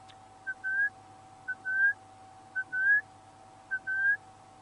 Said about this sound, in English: Last remaining diurnal bird species calling, just making sure that females are with them, establishing their territory before they roost at night.